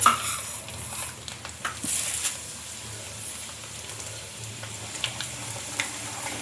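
Snacks frying in hot oil, a continuous soft sizzle and bubbling with occasional clinks of a utensil against the pan, fairly quiet and close, with no talking.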